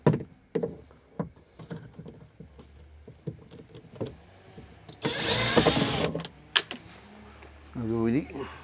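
A power drill unscrews a screw inside a car during a deep clean, one loud whirring burst of about a second with a shorter buzz near the end, between scattered clicks and handling knocks while someone talks.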